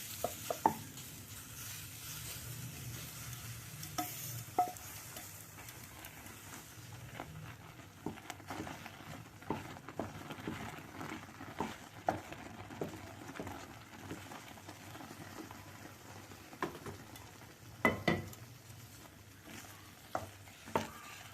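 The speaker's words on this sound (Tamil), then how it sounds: "இப்போ வந்து கொஞ்சம் கொஞ்சமாக நம்ம இந்த ப்ரெட்டை வந்து கொஞ்சம் கொஞ்சமாக கொட்டி மிக்ஸ் பண்ணிடுவோம்" Bread is stirred bit by bit into thickened milk in a pan for a bread cake, heard as quiet wet stirring and soft scraping with scattered light taps against the pan.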